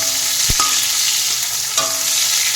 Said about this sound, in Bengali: এই যে আমি হালকা ভাজা করে নিলাম টমেটোগুলি